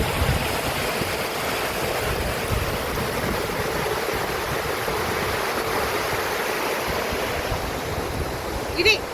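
Steady broadband rush of waterfalls flowing at the Mandalpatti viewpoint in Madikeri, a constant distant roar with wind noise across the whole stretch.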